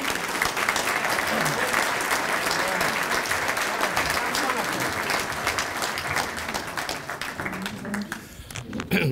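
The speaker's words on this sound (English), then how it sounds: "Thank you for the kind applause." Audience in a hall applauding a state chief information officer as he takes the stage, steady dense clapping from many hands throughout, fading slightly near the end.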